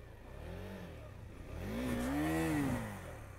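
A KTM Duke 390 motorcycle revs up in heavy snow, its engine note rising and falling through two surges, the second louder and longer, close by with no talk.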